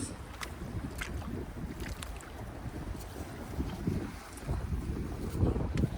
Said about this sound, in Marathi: वारा पण भरपूर आहे आज